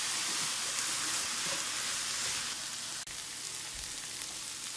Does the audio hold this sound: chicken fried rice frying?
yes